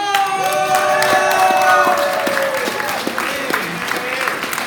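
An audience at the Wellspring of Imagination 2019 event bursts into loud, sustained applause with cheers and shouts, a dense wash of clapping that swells and then slowly eases off.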